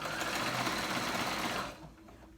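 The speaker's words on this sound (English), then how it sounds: "you can use whatever stretch stitch you have in your sewing machine" A sewing machine stitches a stretch stitch through fabric at a half-inch seam allowance, running a steady fast whir close by before stopping abruptly, leaving quiet room tone.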